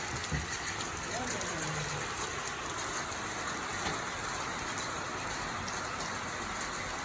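Steady rain falling and pattering on a surface, a constant wash of noise with no pauses; a faint voice briefly surfaces early on.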